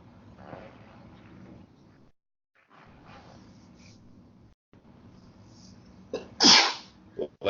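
A single loud, sharp sneeze bursts out near the end, standing clearly above the quiet, low-level background of a movie-commentary session.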